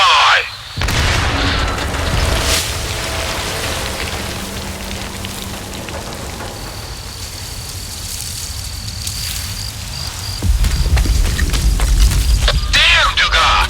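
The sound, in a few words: explosion in video game STALKER 2 Heart of Chornobyl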